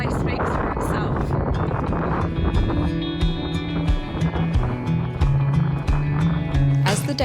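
Strong wind on the Main Range Trail of Mt Kosciuszko buffets the microphone in loud, gusty roars, with a voice faintly underneath.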